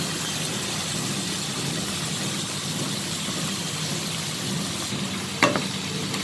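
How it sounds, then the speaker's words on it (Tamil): Mint and coriander leaves with cumin sautéing in a pan give a steady, even sizzle with a soft broadband hiss throughout, and a brief sharp clink near the end. "இது நல்லா சேர்த்து நல்லா வதக்கி எடுத்துக்கலாம்."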